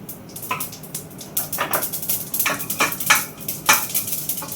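Mustard seeds, fenugreek and cumin sizzle in hot oil as a tempering for gongura dal, a crackling fry with metal scraping and stirring against the pan.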